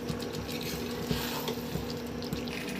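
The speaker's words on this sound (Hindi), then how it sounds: "अच्छे से मिक्स कर रही हैं।" Fish is stirred into biryani masala in a pot, with a soft wet churning and faint sizzle running steadily under a constant low hum, close and quiet, with no voices.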